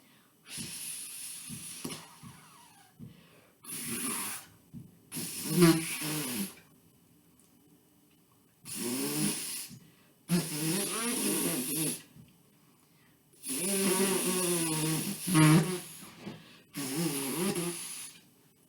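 Breathy bursts of air blown without a trumpet, each broken into short tongued pulses, come in several separate groups with pauses between, fairly quiet and close.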